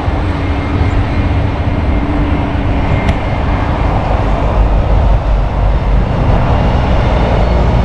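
A two-car Western Australia train passes near a freeway station, giving a continuous, loud, broad roar that swells slightly toward the end. A brief sharp click sounds partway through, and no speech is heard.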